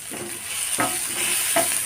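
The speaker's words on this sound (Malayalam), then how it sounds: "ഇതിലേക്ക് ഞാൻ കുറച്ച് വേപ്പിലിട്ട് കൊടുക്കുന്നുണ്ട്" Curry leaves hit a pan of frying fish curry base, giving a steady close sizzle with a few soft stirring scrapes and no talk.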